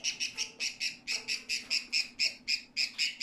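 A pet bird squawks over and over at a veterinary clinic in Dhaka, loud harsh calls repeating in a steady rhythm about four per second, close and alone, with no voices.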